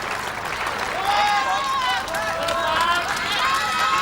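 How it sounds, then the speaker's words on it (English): A crowd at a World's Strongest Man heat cheers and applauds in a continuous roar, with a commentator talking over it. "Can't help when you start to hear the crowd."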